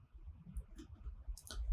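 Light, irregular keystrokes on a computer keyboard while someone sets up a cloud-native API gateway configuration, faint clicks scattered over a quiet low hum, a small cluster near the end.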